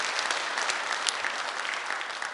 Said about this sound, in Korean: 여러분 동의하시면 우리 청년들 향해서 박수 한번 보내주세요.